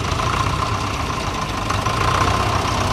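Vintage tractor engine running steadily at a rally during a tractor balancing event, a loud, continuous low chugging drone that stays close and unbroken, with no voices.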